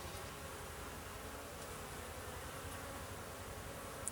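Honeybees at an apiary hive give off a dense, steady buzz that fills the whole stretch, close and continuous, with no voices.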